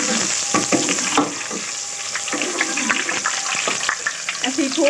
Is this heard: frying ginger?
yes